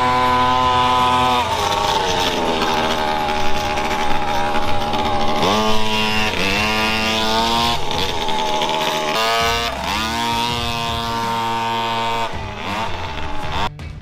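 A Puch Maxi moped from the RIBENS Blueprint 2.0 build races laps on a track, its loud two-stroke engine buzzing continuously and its pitch repeatedly climbing and dropping as it revs through the gears and swings around a curve.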